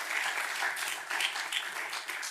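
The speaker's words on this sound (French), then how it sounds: "On peut vous applaudir" An audience at a round-table session of a conference gives sustained, dense applause, a steady wash of clapping hands lasting throughout with slight swells, fairly close and moderately loud.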